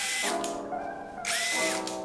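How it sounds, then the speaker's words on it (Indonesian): A Dong Cheng DCJZ 2060i impact drill runs in two short trigger bursts, its motor whining up, dropping to a lower hum, then revving again, loud and close with no talk. "bor ini ketika kita tekan bor nyala"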